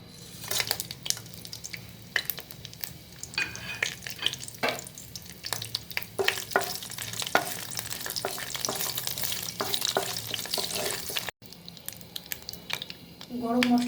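Whole garam masala fries in hot soybean oil in a pan for dhaba-style chicken curry, a crackling sizzle with frequent stirring clatter, close and continuous before a brief gap.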